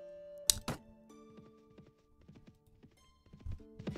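Horse hooves clip-clop in Mount & Blade: Warband, a quiet run of uneven hoofbeats over sustained game tones, with a few louder thumps at the start and near the end.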